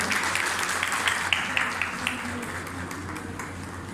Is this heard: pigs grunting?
no